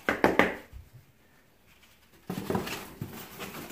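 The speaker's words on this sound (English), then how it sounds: "We'll drop a few in the sand." Superworms dropped into sand, giving a few quick soft patters and thuds near the start, a quiet lull, then a burst of scattered rustling and pattering as more land, close and faint.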